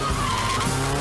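Drift car tires skidding on a practice lap at a French Drift Series event make a loud, continuous squeal over engine roar in a short burst.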